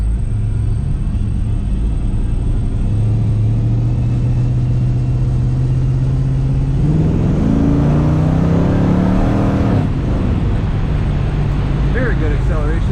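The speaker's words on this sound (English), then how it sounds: "We'll take this roundabout and do one more acceleration." A 1955 Chevrolet Bel Air two-door hardtop restomod pulls through a roundabout and accelerates, its loud engine drone rising in pitch as it speeds up under constant cabin noise, with someone talking over it.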